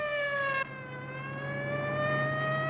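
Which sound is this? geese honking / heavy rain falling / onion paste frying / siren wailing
siren wailing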